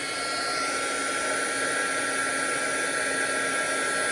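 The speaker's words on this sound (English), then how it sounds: "now I'm going to heat emboss it" A heat tool blasts hot air onto embossing powder for a black ice effect, a steady loud whirring roar with a high whine that holds unbroken and close throughout, no voices.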